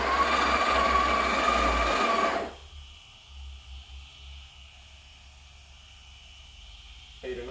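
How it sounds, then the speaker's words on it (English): A Breville Barista Express BES870 espresso machine's built-in grinder grinds coffee beans with a loud, steady whirring buzz for about two and a half seconds, then cuts off into a quiet room hum. "If you hold it, it'll grind for as long as you hold it."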